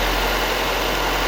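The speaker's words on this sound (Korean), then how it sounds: "여러분들 이거 엔진 소리 한번 살짝 보여드릴게요." A Mercedes-Benz GLB's 1991cc gasoline engine runs at a steady idle, a low even hum with faint vibration, heard briefly and alone without talk.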